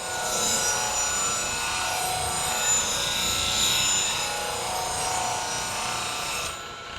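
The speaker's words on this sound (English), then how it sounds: "How to sharpen a scraper on a bench grinder." A bench grinder sharpens a steel woodturning scraper, giving a continuous bright hissing grind that holds steady and loud for several seconds before easing off at the end, with no talking.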